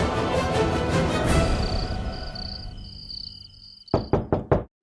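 Four sharp, loud knocks on a door land in quick succession right after a stretch of dramatic background music fades out.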